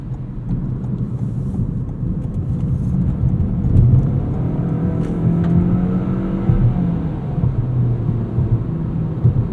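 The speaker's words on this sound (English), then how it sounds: "There's a little bit of noise transmitted through this bigger wheel and tire package" A steady low rumble of tire and road noise fills the cabin of a 2020 Toyota Corolla XSE sedan with CVT and larger wheels, with a faint engine hum rising and falling gently throughout.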